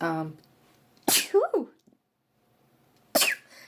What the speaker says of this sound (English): Of course I would sneeze in this tutorial.